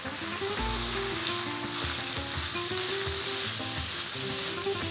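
Fish soup ingredients with dried mint stir-frying in a pan for a Turkish-style white fish soup, giving a steady close sizzle with occasional stirring scrapes and no talk.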